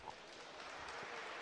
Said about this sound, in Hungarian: Borjanác is megkapja a megérdemelt tapsot a nézőtérről.